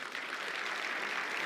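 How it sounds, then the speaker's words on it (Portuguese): An audience gives a round of applause during a motivational talk, a brief, even burst of many hands clapping at moderate distance with no voices over it. "uma salva de palmas para ele."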